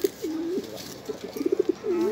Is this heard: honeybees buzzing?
no